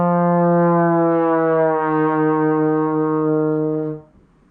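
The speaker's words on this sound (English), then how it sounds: "And then slide down to the bell while maintaining the note." A trombone holds a single sustained brassy note while the slide moves down to the bell, steady and close for about four seconds before cutting off, played alone without talk.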